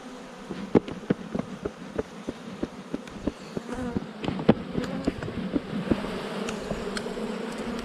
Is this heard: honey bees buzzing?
yes